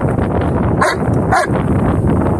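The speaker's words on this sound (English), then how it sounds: "barking is not going to help you get the ball" A dog gives two short, sharp barks close by, spaced about half a second apart, against a low background hum.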